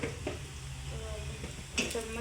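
Methi bhaji (fenugreek leaves) sizzles softly in a pan as a spoon scrapes and stirs it, a brief, quiet, close sound with a couple of clinks over the hiss.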